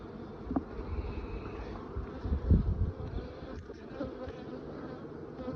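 Dense, continuous buzzing of many honey bees in an opened hive close by, a steady low hum with occasional louder swells, no talking.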